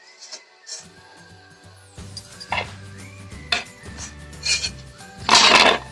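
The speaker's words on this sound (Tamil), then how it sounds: "பாருங்கள், பவுலில் பிளேட்டில் போடும்போதே நல்லா கலகலன்னு சத்தம் கேட்குது" Crispy fried thattai rattling as the pieces drop onto a plate. Sharp clinks and clatters come in scattered bursts, with quiet gaps between them, and a louder jumble of rattling near the end.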